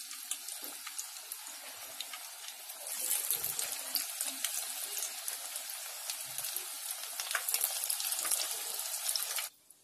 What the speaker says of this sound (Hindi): यहाँ पर मैंने पकौड़े डाल दिए हैं कढ़ाई में।